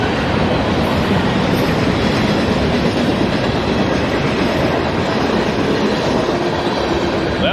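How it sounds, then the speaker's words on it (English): A freight train rolling past a level crossing, a loud, continuous rumble and clatter of railcars close by, steady for the whole stretch with no voices. "So as you can see, I'm kind of held up by the train."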